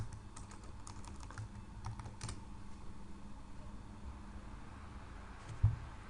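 Light keystrokes on a computer keyboard as the mvn install command is typed, a few scattered soft taps in short bursts in a quiet room, with no talking.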